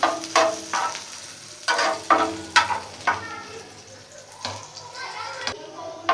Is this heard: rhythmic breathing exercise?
no